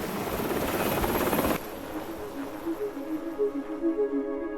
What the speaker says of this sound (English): Even if you don't know much about helicopters, it's obvious that this is a brilliantly engineered vehicle.